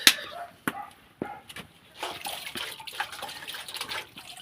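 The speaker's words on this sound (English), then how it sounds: "This is how we wash utensils." Utensils washed by hand in an outdoor village kitchen: water splashes and trickles, punctuated by sharp knocks and clinks of dishes, close and moderately quiet.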